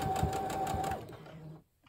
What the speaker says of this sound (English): Sometimes you just got to get on the fabric pretty well and then do your back stitching.